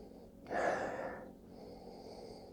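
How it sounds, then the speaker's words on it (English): A single close nasal sniff draws in the aroma of a hazy Imperial IPA with dense white foam, a short breathy inhale rising and fading against a quiet room. "So let's take a sniff of the aroma."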